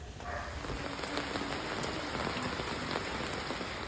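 Rain falls steadily outdoors on a rainy day, a dense, even patter on surfaces with scattered individual drops, heard alone at moderate level.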